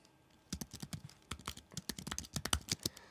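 Typing on a Keychron V6 Max mechanical keyboard, a quick irregular run of crisp close keystrokes after a short quiet start, each click distinct and clear.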